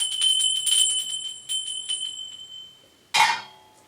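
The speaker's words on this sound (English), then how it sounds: "The royal bells rang," Bright bells ring and shimmer with clustered strikes, fading slightly, then a louder clang near the end.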